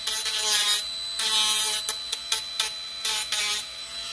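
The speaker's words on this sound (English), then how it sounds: "So I'm gonna come with my drill and hit the ends" A drill with a sanding or grinding bit smooths the ends of a resin A4 business notebook organizer, giving harsh rasping bursts of rubbing and grinding in uneven strokes, close and loud.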